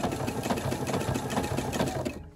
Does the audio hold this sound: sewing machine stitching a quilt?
yes